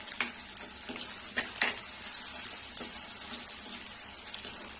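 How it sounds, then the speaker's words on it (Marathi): Chopped onion sautés in a pan with cumin, curry leaves and garlic, a soft continuous sizzle broken by occasional stirring scrapes and clinks, close up with no talking. "कांदा थोडासा ट्रान्सपरंट होईपर्यंत आपल्याला हा परतून घ्यायचा आहे"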